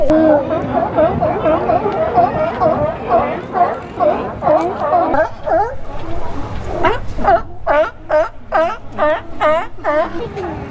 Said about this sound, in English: Anchor Point's a good spot to see the sea lions out there and the seals,